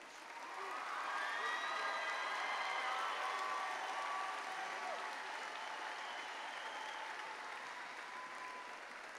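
A commencement audience at Angelo State University's 2018 spring graduation applauds its graduates, a steady, dense wash of clapping that swells early, holds, and tapers slightly, with faint cheering mixed in.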